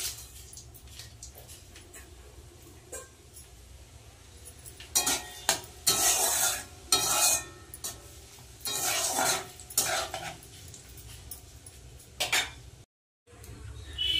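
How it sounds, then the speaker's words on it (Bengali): Bay leaf, whole garam masala and cumin dropped into hot oil, a low background sizzle that bursts into louder crackling spurts as the spices hit, mixed with utensil scrapes and clinks, then briefly cuts out. "ফোড়নে দিয়ে দিচ্ছি তেজপাতা, গোটা গরম মশলা আর গোটা জিরে।"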